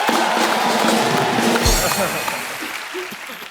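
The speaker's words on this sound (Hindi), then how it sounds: "जोरदार तालियां हो जाए एक बार" Studio audience at a Hindi comedy talk show bursts into loud applause and cheering as a guest is seated, a dense sustained roar that gradually fades.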